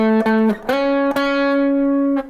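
Electric guitar playing the first measure of a song: a few distorted single notes, each sharply picked and sustained, with clear attacks and ringing tones, close and alone.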